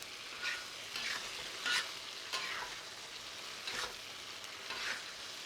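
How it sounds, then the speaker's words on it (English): A spatula stirs sticky sweet tofu sauce in a frying pan, giving soft rhythmic scraping swishes every second or so over a low, steady sizzle. "So I'll just keep stirring."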